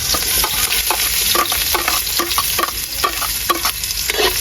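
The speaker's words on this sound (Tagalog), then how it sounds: "Paghalo-haluin ko na ito agad." Aromatics for chicken mung bean stew being stirred in hot oil, a steady loud sizzle broken by repeated scraping strokes of the spoon against the pan, close up with no talking.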